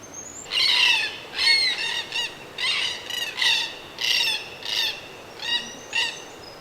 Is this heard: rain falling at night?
no